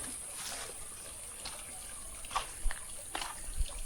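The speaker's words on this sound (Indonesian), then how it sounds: "yang sebelah kiri saya itu tuh ada sungai kecil, namun sungainya sangat jernih banget" Small, very clear river flowing in a village near Mount Ciremai, West Java: a soft, continuous trickle and babble of water with a few brighter splashes, fairly faint and close, with no talking.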